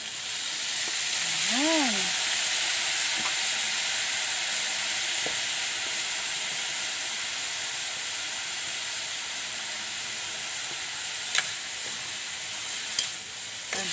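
Soy sauce goes into a hot pan of frying labong, or bamboo shoots. A steady hiss and sizzle continues throughout, with a few faint clicks, and a voice speaks briefly near the start.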